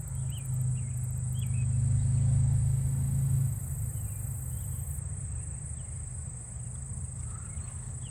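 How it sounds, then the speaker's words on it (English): Katydids call in a high, continuous buzzing trill at moderate distance, overlaid by a louder low rumble of passing traffic that fades midway, with faint bird notes in a neighbourhood setting. "They're definitely louder than the long-speared meadow katydids."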